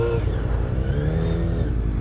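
A Yamaha FZ-07 motorcycle engine revs while being ridden, a loud, close rumble with rising and falling pitch as the throttle works.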